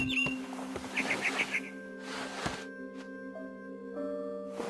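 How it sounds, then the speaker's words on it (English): A barn swallow chirps in a short run of quick, bright tweets in the video game The Remains of Edith Finch, set against steady tonal game ambience with a few soft thuds. "Then I heard chirping outside my window. It was a barn swallow going back to her nest."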